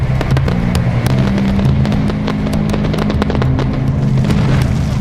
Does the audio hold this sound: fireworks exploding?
yes